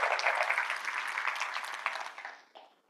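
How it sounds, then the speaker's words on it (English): An audience at a corporate quiz event applauds, a fairly faint but full patter of clapping that gradually thins and fades out toward the end. "Give them a round of applause."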